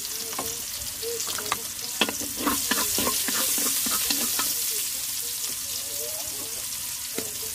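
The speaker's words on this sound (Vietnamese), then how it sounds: "Bây giờ mình lấy cái chảo này mình kho luôn. Mình cho hành tím vô." Shallots sizzle steadily in a hot pan used to braise fish cakes while a utensil scrapes and stirs, with irregular clicks and scrapes over continuous frying hiss, close and moderately loud.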